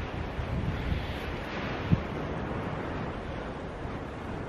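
Strong wind gusts across an exposed winter hillside in the Lake District, a steady rushing roar with buffeting on the microphone and one brief thump near the middle.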